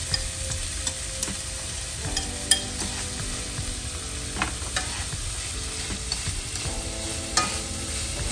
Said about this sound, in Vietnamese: Mình để thịt bằm vô trước tại vì cái này phần này nó sống nên mình xào tiếp.